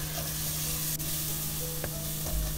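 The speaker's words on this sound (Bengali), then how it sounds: "তারপর আমি মশলাটাকে কিছুক্ষণ ভেজে ঢেকে তা কষিয়ে নিচ্ছি।" Spice paste frying in a pan for beef curry with cauliflower makes a fairly quiet, steady sizzle over a low hum, with a few faint scraping clicks from stirring.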